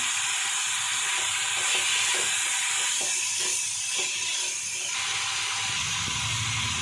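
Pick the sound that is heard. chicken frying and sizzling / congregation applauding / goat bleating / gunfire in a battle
chicken frying and sizzling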